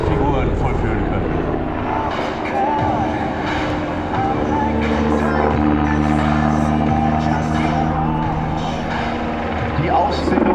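A German Army Tiger attack helicopter flies overhead at an airshow, its loud, steady rotor and engine roar filling the whole clip with a constant droning thrum and no pauses.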